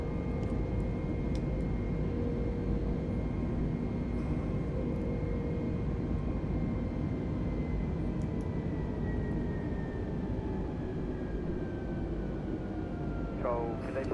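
An A320neo airliner on a delivery flight climbs out after takeoff from Hamburg. The engines make a loud, constant roar inside the aircraft, with steady whining tones and occasional low voices beneath the noise.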